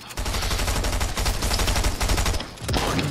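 Rapid SMG fire in a video game, a loud, close, continuous stream of shots that briefly drops out near the end before resuming.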